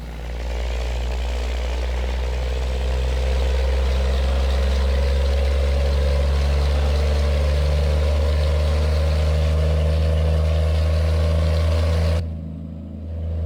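A deep, rumbling Peterbilt semi truck engine in American Truck Simulator drones steadily at low revs for most of the clip, then drops off abruptly near the end.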